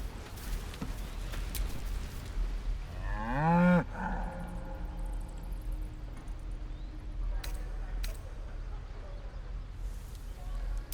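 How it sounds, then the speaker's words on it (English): A creature in Baldur's Gate 3 lets out a single loud, drawn-out cow-like moo mid-clip, rising then falling, against quiet ambient game sound with scattered clicks and talk nearby. "Did it just say moo?"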